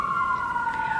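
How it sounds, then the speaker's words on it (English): An emergency vehicle siren on an ambulance driving south on Euclid past a town square, a loud steady wailing tone that drifts slightly downward in pitch as it passes. "Lights and sirens sounding."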